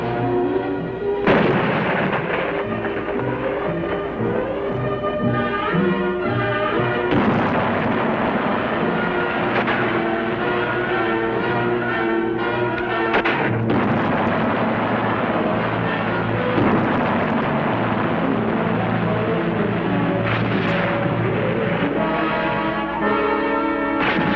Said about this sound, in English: 5 batteries of artillery, mortars, anti-tank weapons, and machine guns are brought to bear upon their positions